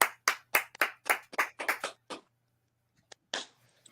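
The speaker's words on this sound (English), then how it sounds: "Help me to welcome my coach, Dr. Jonas Gadson, DTM, known as Mr. Enthusiastic, with a rousing applause." A small audience gives a few sparse, distinct claps to welcome a speaker, about a dozen separate hand claps over two seconds, then quiet with faint scattered claps.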